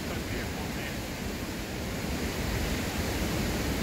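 Steady broadband roar of a waterfall in the Smoky Mountains near the Townsend Wye, heard up close as constant rushing water that fills the whole short stretch without change.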